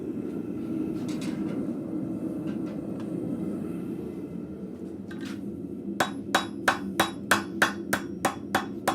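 Light hammer taps on a blacksmith's anvil, shaping a shoulder on scrap steel for an arrowhead in a forge: about ten sharp, evenly spaced ringing strikes in the last few seconds, following a steady low roar of the forge fire.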